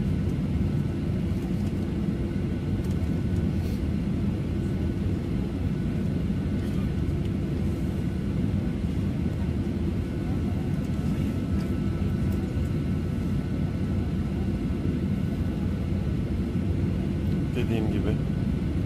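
A passenger jet airliner rolls down the runway for takeoff on a trip in Indonesia, heard as a steady, loud, continuous engine roar and low rumble throughout, with people talking faintly underneath.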